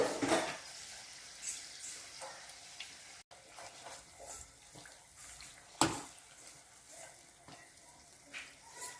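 Karanji pastries deep-frying in hot oil make a soft, continuous bubbling sizzle, broken by occasional louder splashes and clatters as they are turned, close and fairly quiet.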